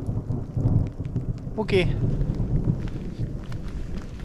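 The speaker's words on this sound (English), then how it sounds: "pretty intense little thunderstorm there. It's still raining." Heavy rain hisses steadily during a thunderstorm at a riverside tent camp on a trout fishing trip, with low thunder rumbling beneath it and a brief sharp chirp near the middle; a voice speaks one short word.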